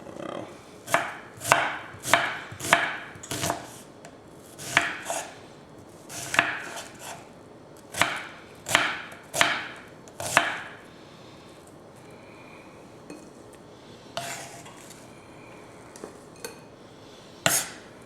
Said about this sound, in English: So we've got our red onion diced up.